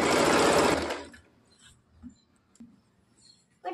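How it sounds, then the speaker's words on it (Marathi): A sewing machine puts a double stitch into a Katori blouse, whirring loudly for about a second before stopping, followed by faint clicks and handling sounds. "डबल स्टिच टाकून घ्यायची."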